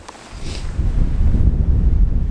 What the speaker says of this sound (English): It's very windy, it's pretty cold, and it keeps raining